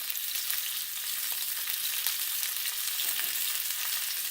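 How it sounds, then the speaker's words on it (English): Sausages sear in a hot pan, making a soft, continuous frying hiss at moderate level with faint crackles and one brief scrape near the end, with no talking. "It's important that we get a nice sear on our sausage."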